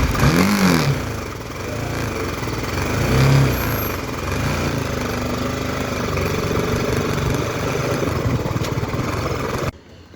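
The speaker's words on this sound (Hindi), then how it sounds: "Let's start the bike." A BMW G310GS single-cylinder motorcycle fires up and settles into a steady, close idle, the engine note loud and continuous before cutting off abruptly near the end.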